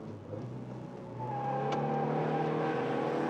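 A Groupe 3 race car on small 165/13 tyres accelerates on a circuit, its engine note rising steadily in pitch and growing louder after the first second, heard from close by with no talk.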